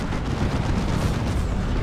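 Manticore missile strikes explode in the strategy game Dawn of War 2, a dense, continuous rumble of overlapping booms lasting under two seconds with no speech.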